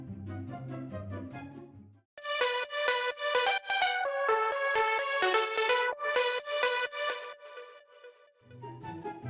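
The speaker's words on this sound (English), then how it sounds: "like a filter automation for the main lead." Progressive house drop whose main lead synth sweeps under filter automation, bright stacked chords over punchy kicks, loud and full, opening and closing with a muffled, filtered section; no voices.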